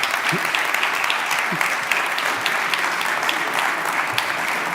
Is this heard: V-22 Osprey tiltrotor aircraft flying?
no